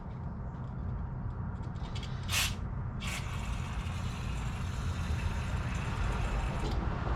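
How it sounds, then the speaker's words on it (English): Cleaner sprays through the holes of a go-kart part in short hissing bursts over a constant broadband rushing noise, close and fairly loud, with no talking. "I'm just checking all the holes now, spraying through all the holes"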